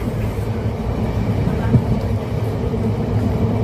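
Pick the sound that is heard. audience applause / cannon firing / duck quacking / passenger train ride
passenger train ride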